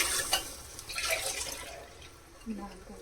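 Water pours and splashes into a cooking pot in a steady stream, five glasses for a chicken pulao with coconut milk, with a person speaking over it.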